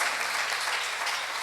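A church congregation applauding during a worship service, a steady dense wash of clapping from many hands that stays even in loudness throughout.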